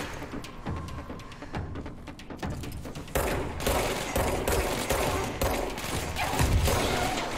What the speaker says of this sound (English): So I had bullets coming from every direction.